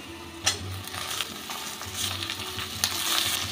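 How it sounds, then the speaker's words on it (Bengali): Meat tossed into golden-fried onions in a hot pan gives a steady close sizzle, broken by a few sharp scrapes and clinks of stirring. "মাংসটা দিয়েও অল্প একটু ভেজে নেব।"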